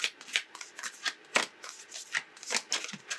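Playing cards riffle and snap in repeated quick bursts, close and crisp, with soft rustling between each shuffle.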